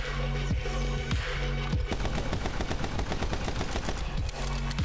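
Rapid gunfire in the video game My Friend Pedro, a long run of fast, evenly spaced shots in the middle followed by a few isolated bangs, loud over a steady pulsing music bed.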